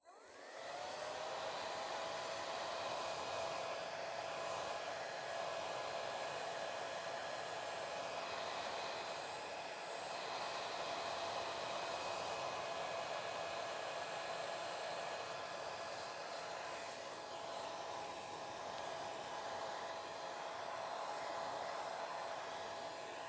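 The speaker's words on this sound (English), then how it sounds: "I am just going to use my hair dryer, so there will be a little noise" A hair dryer dries a painting, running as a continuous, even whirring hiss with a faint steady tone, moderately quiet and unbroken for its whole length, with no talking.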